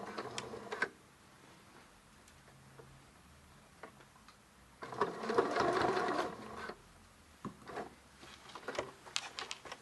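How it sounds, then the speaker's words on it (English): A household sewing machine with an adjustable zipper foot stitches fabric in short bursts, a soft rapid ticking run around the middle, with lighter clicks and taps before and after; quiet and close. "So I just go forward about 3 or 4 stitches"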